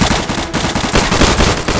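Sustained automatic gunfire from a World War II roleplay session in Garry's Mod, loud and close, with rapid continuous bursts filling the whole stretch and only a brief dip midway.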